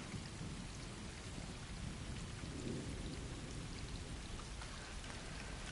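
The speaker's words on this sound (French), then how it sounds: "J'adore le bruit de l'orage et tout." Steady rain hisses over a rumbling thunderstorm in a video game, a dense, even wash of sound that holds throughout with no voices.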